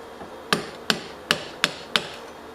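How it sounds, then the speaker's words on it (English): A plastic hammer taps on a part of a 1918 United Phonographs Corporation phonograph, five sharp evenly spaced knocks close by, each ringing briefly before the next, with no talking. "Get my other hammer that's not going to damage anything. My plastic hammer."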